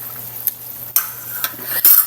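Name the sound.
chicken with pineapple juice being stirred in a pan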